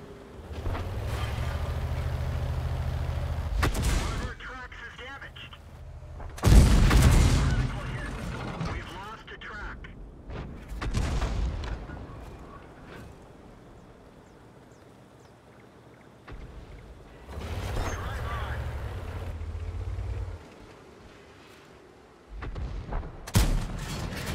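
Tank guns fire at an M4A3E2 Jumbo Sherman turret in a World War II tank video game. Several heavy booms land seconds apart over a low engine rumble, and someone talks between the shots.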